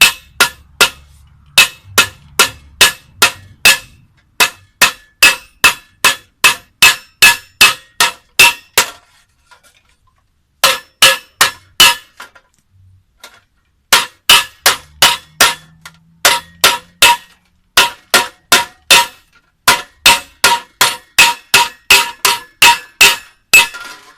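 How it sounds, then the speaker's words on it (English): A Jamaican tin craftsman hammers a sheet of tin straight: quick, regular metallic blows close by, coming in long runs broken by short pauses, with no talk. "I use the hammer to take it straight"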